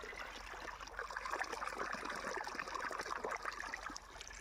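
Water gushing from the pipe of a solar-powered 0.5 HP motor pump drawing from a 200-foot borewell, a steady, rushing wash heard at moderate distance without pause.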